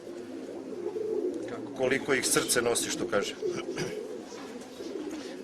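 Caged pigeons coo in a loft, soft throaty calls rising and falling close by, while someone talks over them for much of the time.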